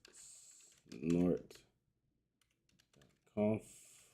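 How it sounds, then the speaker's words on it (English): Keys clicking on a computer keyboard as a command is typed into a terminal, light taps scattered between bursts of nearby speech. "I'm gonna have to manually type this"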